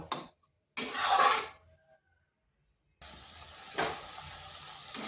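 Semolina and masoor lentil mixture cooking dry in a pan: short bursts of hissing sizzle and stirring, separated by near-silent gaps, then a steady softer frying hiss.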